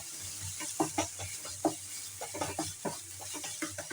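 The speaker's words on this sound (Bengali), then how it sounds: "আদা রসুনটাকেও তেলে ভালো করে ভেজে নেব।" Ginger garlic paste frying in oil with browned onions, soft sizzling under a spoon's repeated scraping and stirring strokes, close and quiet, with no talk.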